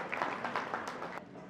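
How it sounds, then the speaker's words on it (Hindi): Applause from an audience at a stage event in India as a speaker is invited up, a short, fairly faint burst of clapping that thins out and stops after about a second. "मैं सर सम्मान जोरदार तालियों के बीच मंच पर आमंत्रित करती हूँ आदरणीय श्रीमती सरोज सोनी जी को।"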